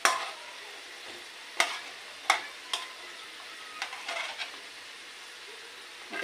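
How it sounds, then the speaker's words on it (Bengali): Pitha being stirred and coated in warm sugar syrup, heard as a handful of crisp, spaced scrapes and clinks of the spoon against the pan over a quiet background, with no talking. "এই যে 3টে দিয়ে নাড়াচাড়া দিয়ে মাখিয়ে নিয়ে তারপর আবার দিয়ে দেবো"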